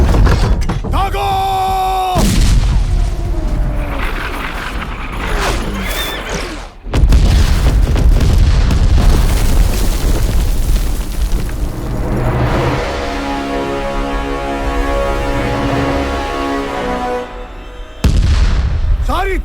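Loud booming blasts from a battery of cannons in a battle scene go off a few times, each followed by rumbling, while shouted firing commands and a horse's whinny sound in between.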